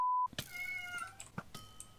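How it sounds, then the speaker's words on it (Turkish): In Minecraft Bedwars, a game cat gives a couple of short meows after a brief beep, close and fairly faint among small clicks and game noises. "Ya kedi!"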